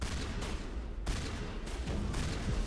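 Heavy sustained barrage of pulse-cannon fire from a Geth Armature siege weapon in the video game Mass Effect, a dense continuous roar of blasts with a brief dip midway, loud and close with no talk.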